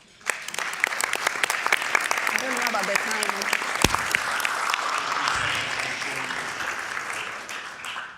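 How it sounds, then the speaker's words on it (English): An audience at an accessibility and universal design event in Kent applauds loudly and steadily after a speaker, with dense clapping that fades at the end and a voice speaking briefly over it. "one more round of applause."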